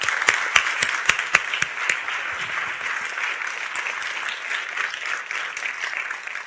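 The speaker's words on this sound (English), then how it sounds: "A big round of applause." Audience applause at a film screening event, steady crowd clapping with a few sharp close claps early on, continuing evenly throughout.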